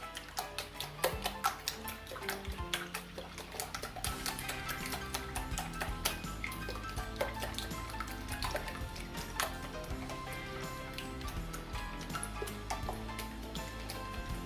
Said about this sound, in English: I'm just going to use my whisk to beat my eggs